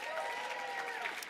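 Brief burst of audience clapping at a worker-power conference plenary, a short dense patter of hands with slight voices mixed in.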